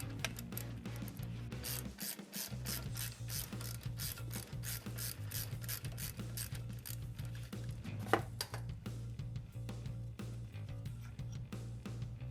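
Ratcheting wrench clicks steadily as brake caliper mounting pins are removed from a Jeep Wrangler, a fast, even mechanical ticking close up with one brief pause and a sharper knock.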